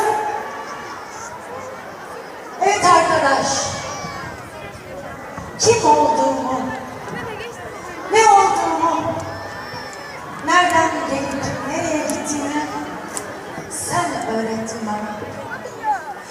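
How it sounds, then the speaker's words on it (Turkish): Graduates at a girls' technical and vocational high school cap-throwing ceremony cheer and shout in repeated loud surging waves, with crowd chatter, whistles and voices over a public address between bursts. "Kendinizi alkışlayın be."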